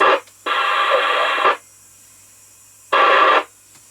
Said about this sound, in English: Roger, do you want to just press your call tone so we can hear it?